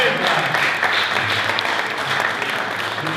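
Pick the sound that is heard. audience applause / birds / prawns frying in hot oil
audience applause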